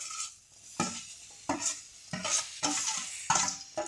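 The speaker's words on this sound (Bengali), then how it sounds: "এবার আমি নারকেল গুঁড়োগুলো ভালো করে ভেজে নেব" Grated coconut being fried and stirred in a hot pan, with a steady soft sizzle broken by several sharp scraping strokes of a spatula, close and moderately loud, no voices.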